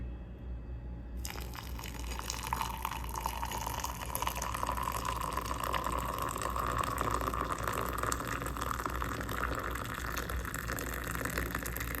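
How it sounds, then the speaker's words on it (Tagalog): Hot water pours into a cup of instant coffee in a steady, continuous stream that rises gently in pitch as the cup fills, over a low background hum. "Lalagay na tayo ng hot water."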